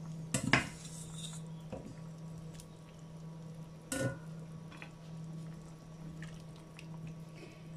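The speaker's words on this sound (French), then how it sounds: "J'ajoute mes pommes de terre." Potatoes go into a pot of simmering homemade soup: two distinct clattering clunks against the pot, one early and one midway, over a quiet low hum with faint small knocks between.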